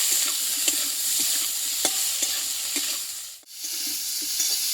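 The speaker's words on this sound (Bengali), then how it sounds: "মশলাটা দেওয়ার পরে আমি আলু ফুলকপিটা কষিয়ে নিয়েছি" Potato and cauliflower pieces sautéed with turmeric and salt in a pan, a steady close sizzle broken by regular soft scrapes of stirring and a brief dip in the frying noise.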